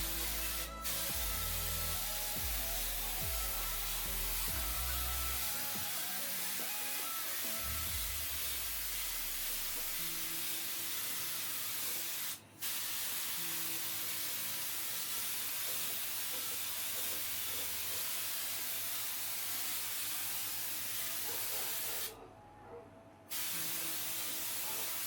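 Spray gun applying 2-pack high gloss fast clear coat to a motorcycle helmet visor at about 60 psi, a loud continuous hiss lasting the whole stretch with two very brief breaks near the end.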